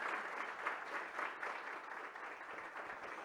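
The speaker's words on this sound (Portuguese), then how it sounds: "Então, uma salva de palmas para o Rui, né?" Audience applause for a speaker at a business breakfast event, a steady, fairly distant wash of many hands clapping throughout, fairly quiet.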